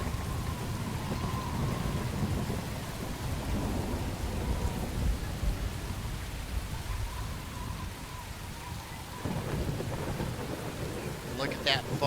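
Rain and thunder in the Rolling Line video game, a dense hiss of falling rain with deep rolling thunder rumbling underneath, the low rumble fading near the end while the steady rain continues.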